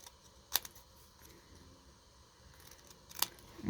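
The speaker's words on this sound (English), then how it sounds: "So I'm going to just use scissors to snip it out." Two crisp scissors snips cut through paper while cutting out a paper doll-house armchair piece, quiet and close, separated by a few seconds of near silence.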